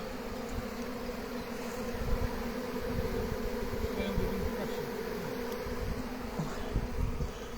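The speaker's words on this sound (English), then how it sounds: "Sounded proper, didn't it? Like a real swarm." A honeybee swarm arriving at a baited hive makes a dense, steady buzzing drone that fills the air close by and continues without a break, with no voices over it.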